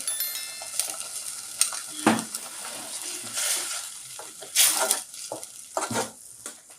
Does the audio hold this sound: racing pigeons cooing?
no